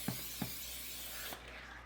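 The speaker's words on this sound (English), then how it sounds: "I'm going to spray the pan while she mixes that up." A few short hissing bursts of cooking spray hit a baking pan, close and fairly quiet, with a soft background hum.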